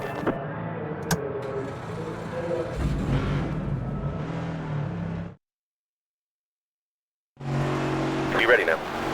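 Race cars in the NASCAR 25 video game fire up and drive, a steady engine roar broken by a short gap of silence before the engines return; no voices heard.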